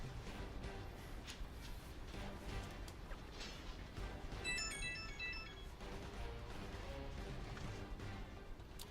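A mobile phone ringtone plays for a few seconds over loud, busy game sound during a solo Peakblade Chronicles 2 stream, its short melodic tones standing out briefly above the steady noise.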